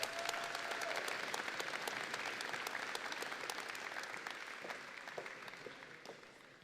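Sustained applause from a high school graduation audience honoring high honor graduates, a dense, steady clatter of many hands that holds throughout and tapers only slightly toward the end.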